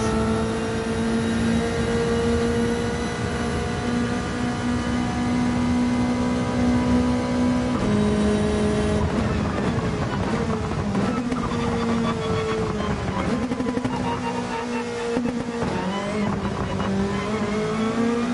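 Gr.3 race car engine in Gran Turismo 7, a steady loud drone with gear shifts and pitch drops as the car brakes into a corner, then climbing again under acceleration, with no talk.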